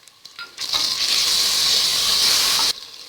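Onions and ginger-garlic paste sauté in a hot pan for a vegetable biryani, giving a loud, steady hiss and sizzle that swells after a few light clinks and then cuts off abruptly.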